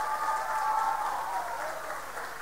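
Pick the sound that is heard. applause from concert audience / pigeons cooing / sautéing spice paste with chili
applause from concert audience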